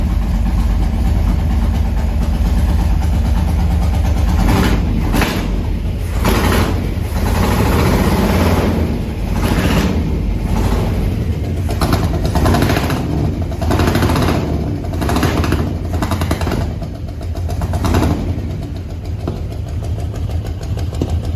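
A 1974 International 150 pickup engine runs loud and rough, with uneven surging revs and sharp pops recurring through the whole stretch, with some restriction in the exhaust.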